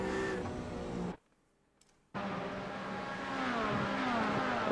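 An LMP2 prototype race car in a Le Mans sim racing game roars past with steady engine whine, cutting out briefly to near silence for a second before the loud engine drone returns and continues rising.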